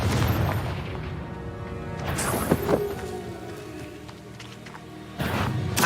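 A fiery blast spell in Hogwarts Legacy booms out in a deep, rumbling burst, followed by a lower crash and a second heavy thump near the end, all loud and close with no talking.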